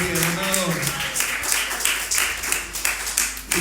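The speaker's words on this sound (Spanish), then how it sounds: "Dale el aplauso grande y decirle: son míos." Audience applause in a church, a dense, sustained burst of clapping that rises and fluctuates over a few seconds, with a voice speaking over it at the start.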